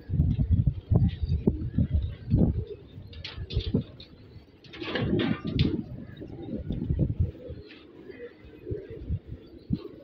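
Several pigeons coo in a loft, their soft repeated calls mixed with fluttering and rustling, fairly close, with little talk.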